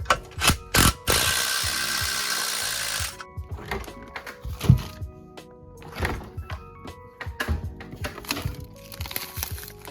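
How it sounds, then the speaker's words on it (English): A pneumatic impact wrench drives a part into a Mazda Miata front suspension during a control arm and bushing rebuild, giving a few short rattling hammering bursts, then a sustained loud burst of about two seconds, followed by scattered clanks and mechanical knocks. "Now I'm just gonna take my impact, I'm gonna drive it in."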